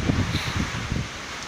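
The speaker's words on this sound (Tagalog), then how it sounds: "Mas malakas doon ang hangin." Strong wind whips through garden plants and banana trees in Batangas, producing close, gusty rustling bursts of leaves that ease off toward the end.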